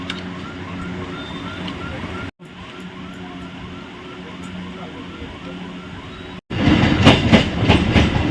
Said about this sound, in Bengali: আর এখন সিগনাল দিতে ট্রেন আসবে